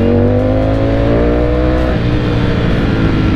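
A Ducati V4S motorcycle engine roars loud and close while riding, its pitch sliding downward as revs drop, then settling into a steady powerful drone.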